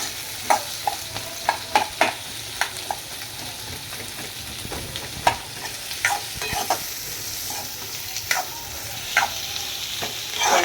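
Onions sizzle steadily in a pan for Marathi-style egg rice, with repeated close scrapes and clacks of a spatula stirring them throughout, no talking.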